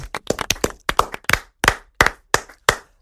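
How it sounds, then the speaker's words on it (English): A small group claps unevenly, a dozen or so sharp, sparse claps spread over a few seconds, close by and without voices. "Give her a round of applause"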